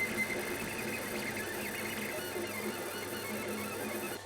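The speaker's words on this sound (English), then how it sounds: "At least that cooling fan seems to be finally working." An old Monoprice 3D printer runs with its cooling fan on, giving a steady, moderately loud mechanical whir and hum with faint motor chatter that continues evenly throughout.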